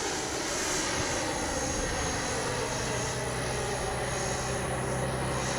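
An FMS Avanti S 90mm RC jet climbs high overhead in flight, its ducted fan producing a steady, loud turbine roar that holds constant with no speech.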